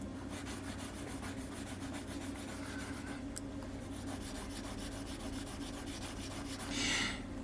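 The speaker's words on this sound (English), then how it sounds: "I think I need a new fine sanding stick." Gentle, steady rubbing of a fine sanding stick on a small model ship part, soft and close, with a continuous light scratchy texture and a brief louder swipe near the end, and no talk.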